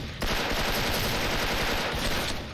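An M4A1 rifle fires in the video game Special Force, a rapid unbroken burst of automatic gunfire that starts abruptly and rattles on loudly for over two seconds, close and dense, with no talking.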